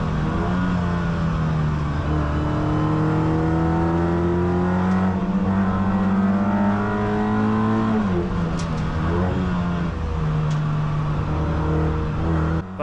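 Race car engine in an NLS endurance race at the Nürburgring, heard from on board: a loud, sustained engine drone rises through the gears with brief lifts and shifts, and no talking.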